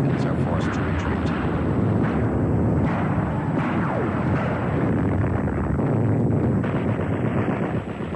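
Bombing and artillery fire in the Spanish Civil War as civilians flee toward the international bridge into France: a dense, continuous rumble of explosions and heavy gunfire with low booms, overlaid by narration.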